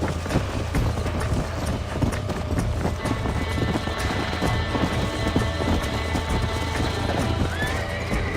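A horse gallops with steady clip-clop hoofbeats and neighs in Red Dead Redemption Remastered gameplay on PC, loud and continuous over the game's ambient sound, with a voice faintly present at times.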